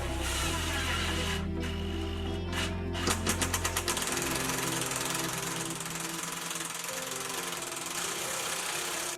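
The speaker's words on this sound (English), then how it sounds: "So I'm just gonna try screwing them in and see what happens." A power drill drives screws into a wall while an IKEA Godmorgon vanity is installed, starting with a loud grinding whir, then a short run of rapid rhythmic knocks, then a steady close motor drone.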